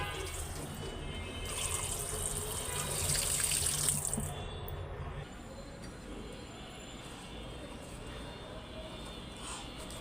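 Fish being washed under a running kitchen tap, water splashing steadily into a sink for a few seconds before the flow stops and only faint room noise remains.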